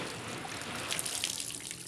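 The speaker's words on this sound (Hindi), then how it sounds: "काफ़ी टाइम से ये पानी नीचे से बह रहा है।" Tap water pours steadily through a cloth being rinsed to purify it, a continuous close splashing hiss with small shifts in the flow and no voices.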